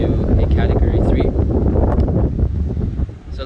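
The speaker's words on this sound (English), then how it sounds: "you can see it's actually quite windy" Strong typhoon wind in Hong Kong buffets the microphone in loud, continuous low rumbling gusts, with a faint sea wash beneath.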